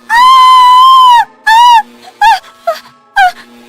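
A woman screams loudly in a horror story: one long sustained shriek followed by several shorter, sharp cries, close and alone with no talk.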